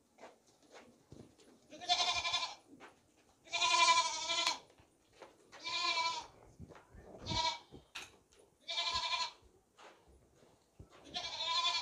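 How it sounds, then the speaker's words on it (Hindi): Goats at a livestock market bleat repeatedly in loud, wavering calls, about six cries spaced a second or so apart, with quiet gaps between them. "भागती दौड़ती सेहतमंद खूबसूरत मोटी ताज़ी सेहतमंद बढ़ने वाली बकरियां दोनों"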